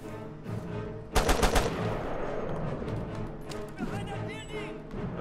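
Rapid automatic gunfire bursts in the action video game Mercenaries 2: World in Flames, loud and dense at first, then continuing as sustained shooting and combat noise for several seconds.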